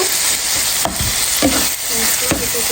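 Dried loitta fish (shutki) stir-fried in a pan with a loud, dense, close sizzle and occasional scraping strokes of the spatula.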